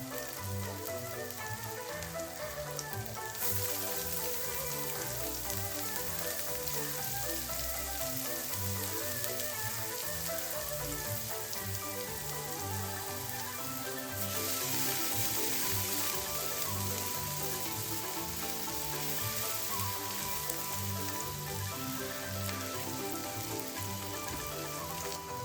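Chopped garlic, ginger and onion frying in hot oil, a dense, steady crackling sizzle that holds throughout and grows brighter and louder partway through, with no talk.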